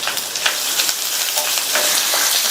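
Lentils, dried chillies and chopped onion fry in a pan with a loud, steady sizzle scattered with small crackles and pops, close and continuous with no talking.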